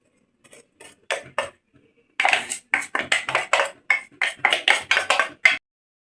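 A spoon stirs semolina and powdered sugar together in a bowl for rava laddu, making a run of close, rhythmic clinks and scrapes against the dish, with short pauses and no talking.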